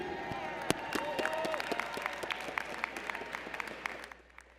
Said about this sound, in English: Let's give all our new graduates another round of applause